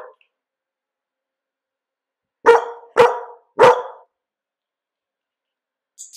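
A dog barks three times in quick succession, loud and close, with silence before and after.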